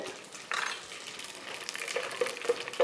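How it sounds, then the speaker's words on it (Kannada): Cumin seeds and curry leaves fry in hot oil with a soft, crackly sizzle, broken by a few small sharp pops and light stirring clatter near the end. "ಕರಿಬೇವಿನ ಸೊಪ್ಪು ಆದ ತಕ್ಷಣ ಜೀರಿಗೆ ಒಂದು 2 ಸ್ಪೂನು ಜೀರಿಗೆ ಹಾಕ್ಕೊಳ್ಳಿ."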